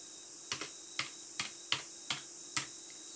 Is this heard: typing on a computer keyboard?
yes